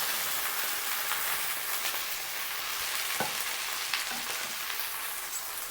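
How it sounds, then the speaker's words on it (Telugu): Okra fries in hot oil, a dense, even sizzle like rain that carries on without a break, with faint scrapes and taps of stirring now and then. "ఇవి బాగా ఫ్రై అవ్వాలి."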